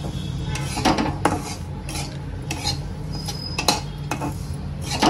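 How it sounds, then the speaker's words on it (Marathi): Coarse semolina roasting in ghee in a pan for mango sheera, with repeated scraping and clinking strokes of a spoon against the pan over a soft continuous frying rustle. "आता तुपामध्ये ह्याला चांगलं भाजून घेते"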